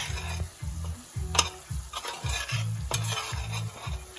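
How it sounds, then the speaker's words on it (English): Chili powder is stirred into a South African crab curry in a pot, giving steady rhythmic scraping strokes close up over a soft sizzle from the pan. "give that a good stir"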